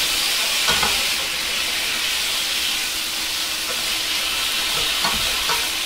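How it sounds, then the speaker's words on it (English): Beef stew meat and vegetables stirred around in a hot pot, a loud continuous sizzle with occasional scraping knocks of the spoon, no voices. "And just stir it around with the vegetables and get those flavors all married up."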